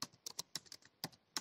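Light keystrokes tap on a computer keyboard in an irregular, quick run of about ten clicks, close but faint, with no voices.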